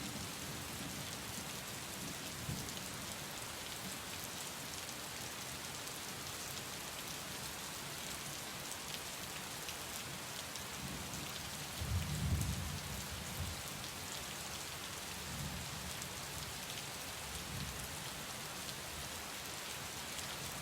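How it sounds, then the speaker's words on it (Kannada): Heavy monsoon rain pours down steadily in a continuous, even hiss of drops on surfaces, with a soft low rumble swelling briefly partway through. "ಇಲ್ಲೆಲ್ಲ ಭಾರಿ ಮಳೆ ಆಗ್ತಾ ಇದೆ"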